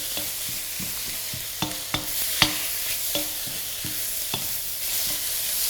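Steak searing in a pan with mushrooms and onions, a continuous loud sizzle broken by repeated sharp scraping clacks of a utensil stirring and turning the food at an uneven rhythm.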